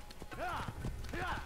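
Horse hooves clip-clop in a quick galloping rhythm while riding in Assassin's Creed, with someone talking over the game sounds.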